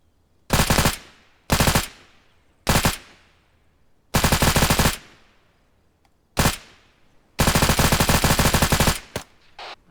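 Rapid gunfire at an outdoor shooting range: several loud, close bursts of fast shots separated by brief pauses, ending in a long sustained string and a couple of trailing single shots.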